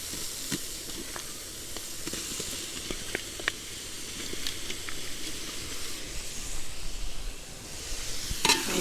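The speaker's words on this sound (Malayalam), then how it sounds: "നമുക്കിനി നേരിട്ട് ബീഫ് ചേർത്ത് വേവിച്ചെടുക്കാം." Beef pieces sizzle steadily in a hot pan for Kerala-style kappa biriyani, a continuous frying hiss with scattered spatter pops that swells slightly toward the end.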